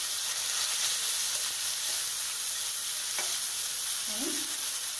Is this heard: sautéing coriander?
yes